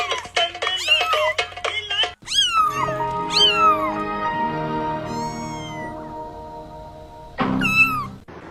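Little kittens meow repeatedly, with high, rising cries in quick bursts at first, then a long drawn-out wail and a final pair of sharp mews, loud and close with no talking.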